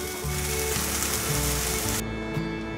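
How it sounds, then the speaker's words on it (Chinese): Seasoned filling, with soy sauce added, stir-fried quickly in a pan: a steady, close sizzle with faint scraping runs without pause and drops to a softer hiss near the end. "快速的翻炒，把调味料炒匀。"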